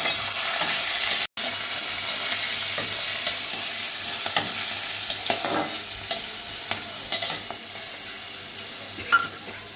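Grated coconut and soaked chickpeas stir-fry in a hot pan, a continuous hiss of sizzling oil broken by scraping spatula strokes and a brief gap, with no one talking.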